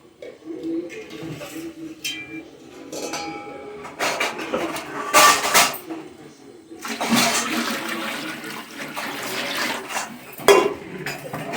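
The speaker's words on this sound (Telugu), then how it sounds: "3 లోటాలు వాటర్ వేస్తున్నాను" Water pours in bursts into a metal pot of basmati rice, with clinks of metal utensils between pours; close and moderately loud, no talking.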